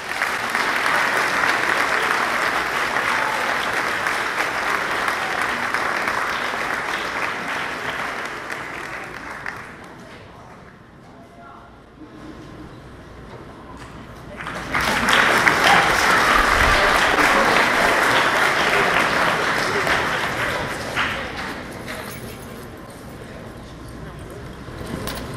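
An indoor audience at a school's sixth-grade academic awards claps loudly and steadily for about ten seconds, falls quieter, then bursts into a second long round of applause that fades toward the end.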